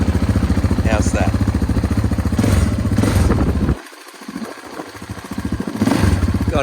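A KTM 690 Enduro motorcycle engine runs loud and close with a rapid, steady firing pulse, sags briefly near the middle, then picks back up to a strong throb.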